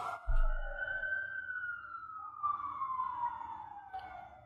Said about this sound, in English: can you hear the sirens behind me?